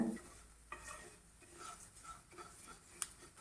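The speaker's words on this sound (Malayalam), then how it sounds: "ഇനി ഇതിപ്പോൾ ഒരു മണൽ പരുവാകുന്ന വരെ വറുത്തെടുക്കണം." Quiet scraping and stirring of dry wheat semolina roasting in a hot pan, with soft intermittent strokes and a faint sizzle.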